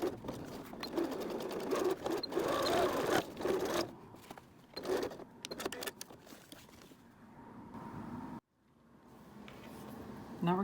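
A sewing machine stitches a thick bag strap in quick, stuttering bursts, whirring then stopping and starting again, close up, with a voice speaking between runs.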